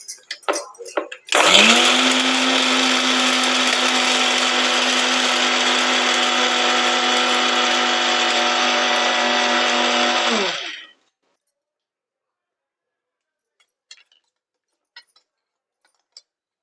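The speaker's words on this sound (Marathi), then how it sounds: "आपण हे मिक्सरला बारीक करून घेऊया." A mixer grinder whirs loudly as it grinds amla and green chillies into a coarse paste, starting with a jolt, running steadily for about nine seconds, then winding down to silence with a few light clinks afterward.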